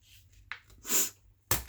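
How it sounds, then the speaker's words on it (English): A person sneezing at a craft table, a short sharp burst after a few quick breaths, followed by another abrupt sneeze-like blast, close and fairly quiet with no talking. "if I can quit sneezing"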